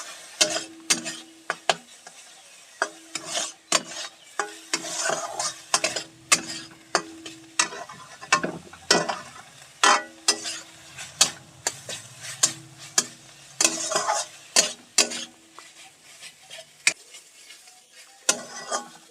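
Soybean masala being stirred and fried in a pan, with a steady run of sharp spatula scrapes and clinks over a soft, low sizzle, close by and with no voices.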